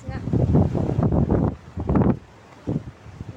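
Strong gusts of wind buffet the microphone at a seaside boat landing with rough waves, coming in loud close bursts that drop away and return.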